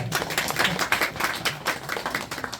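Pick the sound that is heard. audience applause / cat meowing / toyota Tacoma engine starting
audience applause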